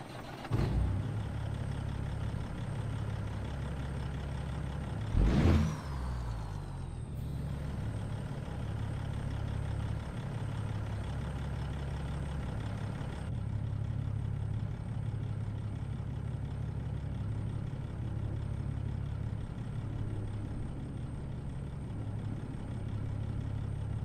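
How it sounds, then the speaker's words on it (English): A Kenworth W900L truck with a Cat C15 diesel idles in a video game, a low, steady rumble with a single brief rev or clunk early on, otherwise a constant drone throughout. "under the hood today, we're using Slob Jerry's Cat C15 6NZ"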